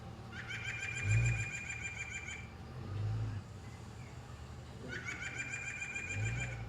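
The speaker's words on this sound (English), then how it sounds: "It's a white-breasted nuthatch. I'm sure many of you are familiar with this smartly dressed bird, which is a year-round resident, and its yank, yank call." A white-breasted nuthatch gives its nasal yank-yank call in repeated bursts of quick notes, two clear series separated by a pause, moderately close over a low background rumble.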